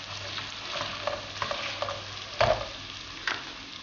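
Carrot pieces frying in a pan while being stirred, a steady sizzle broken by scraping stirs and one louder clatter midway, close and with no talk.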